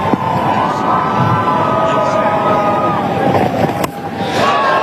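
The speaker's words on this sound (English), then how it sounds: "the Ireland fans in the crowd are up and about" Ireland fans in a cricket stadium crowd at an India vs Ireland T20 match: a steady, loud roar of cheering and shouting with horn-like tones running through it, filling the whole stretch without letting up.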